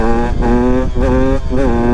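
A Beta 125 motorcycle engine during wheelie practice, heard close and loud, revving with steady buzzing tones that climb in pitch, drop off and climb again in repeated pulls.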